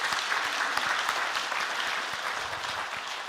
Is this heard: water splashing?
no